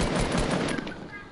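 Rapid automatic gunfire in a video game rattles out in a dense, close burst that lasts about a second.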